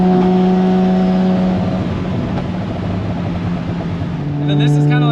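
A four-rotor Toyota Supra engine drones loud and close under boost while drifting on a backroad, its steady rotary tone sweeping and shifting pitch before rising again near the end.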